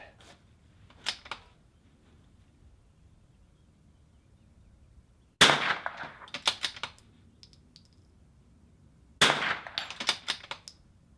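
Rifle shots ring out during an NRL22 tank trap stage: three separated bursts, each a sharp crack followed by quick follow-up shots and clinks, with near-silence between.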